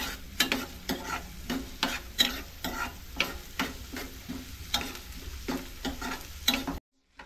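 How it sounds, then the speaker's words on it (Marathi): Onions with asafoetida (hing) stirred in a pan: a steady run of rhythmic scraping strokes over a light sizzle, close by, ending in a brief silence. "आता हे ढवळून घेऊया आपण।"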